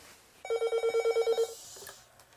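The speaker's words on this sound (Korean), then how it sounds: "또 전화다." A telephone bell rings in a rapid burst of about ten closely spaced electronic trills, loud and close, before stopping and leaving a quiet room.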